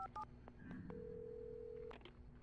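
A handset in the Alan Wake video game dials out: a few quick beeping tones at the start, then a long steady dial tone held for about a second before it cuts off, heard alone with a faint room hum underneath.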